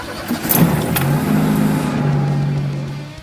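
A car engine revs and accelerates as the vehicle speeds away, a loud, close sound effect whose pitch rises and holds over about three seconds.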